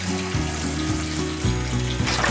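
Tap water runs and splashes into a container while a bleach cleaning solution is mixed, a steady close gush with a gurgling pulse repeating about every half second, and no talk.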